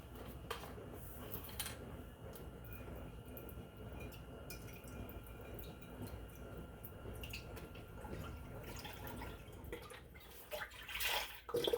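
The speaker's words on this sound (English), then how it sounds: "Okay, so I'm just going to go straight in with my chicken broth." Chicken broth poured into a crock pot, a quiet continuous liquid trickle and splash with a few faint drips and handling clatters near the end, close by and soft, no speech.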